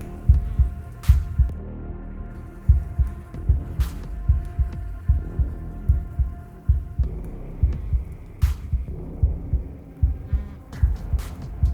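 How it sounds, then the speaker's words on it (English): A loud, deep heartbeat throbs in a steady double-thump rhythm inside the horror game Slay the Princess, set over a low droning hum, with no voices. "That heartbeat's really loud."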